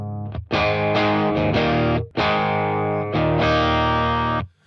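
Electric guitar through a Keeley DDR pedal on its tube screamer drive side, with sustained, distorted chords strummed in a few ringing phrases, loud and close, playing alone.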